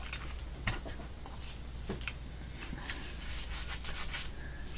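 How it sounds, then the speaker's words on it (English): A finger rubs wet glue off a paper lapbook page in a quiet craft setting. It makes soft, close, irregular scuffing strokes with a few sharper brushing bursts and no speech. "If you can't get it all off by rubbing it while it's wet"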